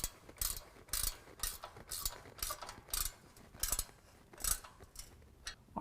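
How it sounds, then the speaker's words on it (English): A 13 mm ratchet tightens a spherical band clamp on a Corsa Sport Series exhaust fitted to a 2022 Chevy Silverado 1500, giving a steady run of close, crisp clicking bursts, roughly two per second, with no talk. "with our 13 millimeter, tighten down our spherical band clamp"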